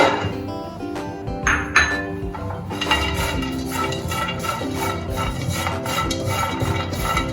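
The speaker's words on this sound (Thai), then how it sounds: "จะเอา กุ้งแห้งลงไปคั่ว" Dried shrimp dry-roasted in a pan for Thai nam prik ta daeng chili paste, with repeated metallic clinks and rattling scrapes of a utensil against the pan, fairly loud and close, with no voices.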